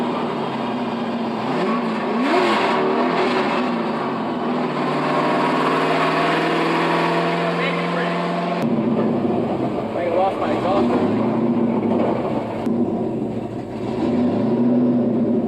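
A BMW E46 with an LS V8 engine swap drones and revs continuously over several seconds, pitch rising and falling, loud and close, with a brief change in tone midway.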